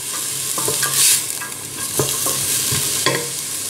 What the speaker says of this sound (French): je laisse le tout colorer à feu moyen pendant une dizaine de minutes en remuant de temps en temps